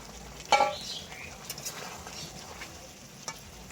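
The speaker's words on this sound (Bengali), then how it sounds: "চাপা খুলে এখন একটু নেড়ে নেব" Meat curry stirred in a pot, with a sharp clink of a utensil against the pot early on, then faint scraping and soft stirring sounds over a quiet low hiss.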